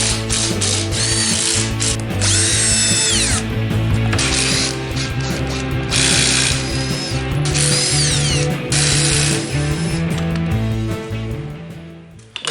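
Power tools drive fasteners while a starter motor goes onto a car with a T56 transmission in a garage, loud close bursts of ratcheting whir that rise and stop repeatedly, over a constant mechanical hum.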